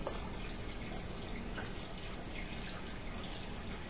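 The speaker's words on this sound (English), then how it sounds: "with an easy pour, not much of a head" Four Peaks 8th Street Ale being poured steadily into a glass, a continuous close liquid rush with a faint fizz, running alone without pause.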